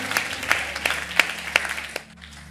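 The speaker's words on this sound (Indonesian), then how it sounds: "Tepuk tangan buat Tuhan Allah kita, haleluya" A church congregation at a Sunday service claps briefly, several sharp hand claps over a low murmur that stops abruptly after about two seconds.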